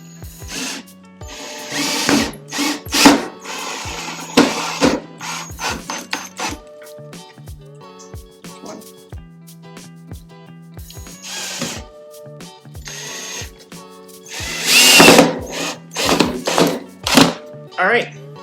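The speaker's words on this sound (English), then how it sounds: "I'm going to use those to drive 2 more screws just to hold this into place." A power drill drives screws into wood for a nightstand build, producing several short whirring bursts and scraping, rubbing handling noises at close range, spread irregularly with quiet gaps between them.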